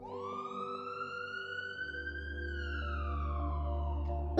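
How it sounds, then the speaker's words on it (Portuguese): An ambulance siren wails loud and steady for about four seconds, its tone climbing and then sliding lower as it passes close by, with a heavier low rumble joining partway through. "Sabe quando uma sirene de ambulância passa por perto?"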